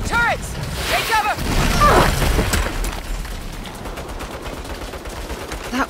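Turret gunfire in Saints Row crackles in rapid bursts with booming impacts, loud and close, while voices shout over the barrage.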